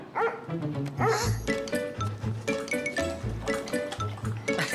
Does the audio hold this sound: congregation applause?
no